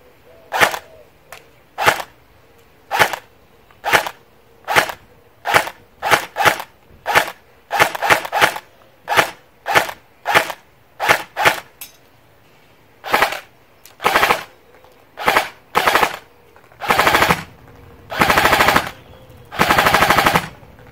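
An airsoft M4 rifle fires sharp, close, loud shots, first in quick single and paired bursts, then in longer sustained full-auto strings toward the end, with no talking.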